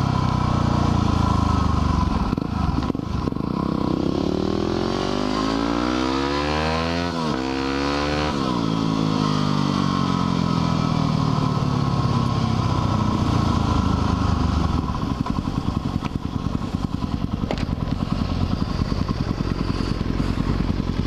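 A 1000 motorcycle engine runs loud and close, revving up and down with rising and falling pitch sweeps before settling into a rough, rapid idle clatter.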